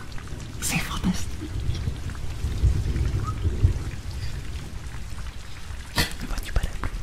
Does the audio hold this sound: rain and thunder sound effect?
yes